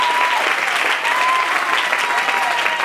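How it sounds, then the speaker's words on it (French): A crowd at a Congolese church service applauds its guests with steady, dense clapping that fills the moment loudly and evenly, with no break and no words. "Est-ce qu'on peut acclamer pour nos invités?"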